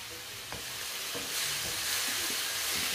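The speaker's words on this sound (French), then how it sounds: "Donc là, on mélange rapidement" Food being stirred quickly in a hot frying pan, scraping utensil strokes over a continuous sizzle that grows louder and hissier partway through, close and without talk.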